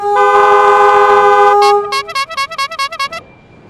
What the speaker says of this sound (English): We can hear the sound of airplane horns blaring at each other like a New York traffic jam.